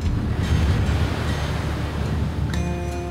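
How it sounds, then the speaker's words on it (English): Big ocean waves rolling onto a blustery Cape Breton shoreline, a steady loud roar of surf mixed with heavy wind buffeting the microphone, with no voices. "the waves, look, the waves are getting so big"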